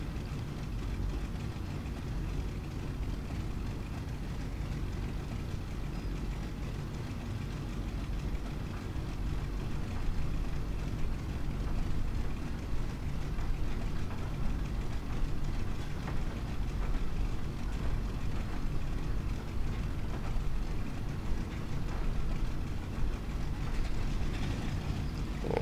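Piston engines of a Boeing 377 running in a flight simulator, a steady low rumbling drone that holds evenly throughout and thickens slightly partway through as another engine joins.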